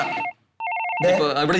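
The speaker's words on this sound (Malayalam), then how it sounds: "ഫോൺ വരുന്നു, എടുക്ക്" A telephone rings in short pulsed bursts for under half a second, falling between stretches of close conversational speech from people in a room.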